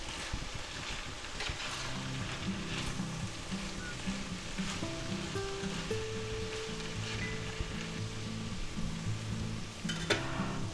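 Shrimp chow mein with green onions tossed in a hot pan, producing a soft steady sizzle with light stirring scrapes, while a low tonal hum runs underneath at moderate volume.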